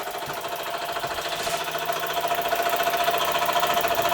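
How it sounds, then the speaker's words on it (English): An Ernst Plank horizontal-boiler model steam engine runs on steam with a fast, steady mechanical chuffing and ticking beat that grows slightly louder and stays close and continuous throughout. "let's see if we can get this thing running on steam"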